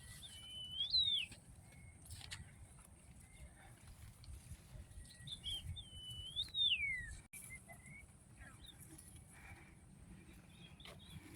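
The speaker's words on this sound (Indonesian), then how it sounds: "Wah, suara burung apa itu guys?" A bird sings two clear, looping whistled phrases several seconds apart over a quiet outdoor background, with faint chirps between.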